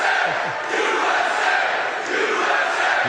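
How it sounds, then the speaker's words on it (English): A large political rally crowd in Pennsylvania chants loudly and continuously, forming a dense roar of many voices with a steady rhythmic swell and no breaks. "here's what the crowd was chanting"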